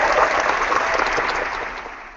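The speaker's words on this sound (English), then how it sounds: "Clap, clap, clap, clap." A crowd claps steadily at an indoor gathering, a dense, sustained wash of applause that holds strong and then gradually eases toward the end.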